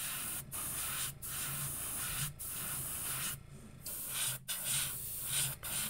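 A spray can lays a light coat of black paint onto a sunfish fishing lure in steady close hissing bursts, each broken by short pauses.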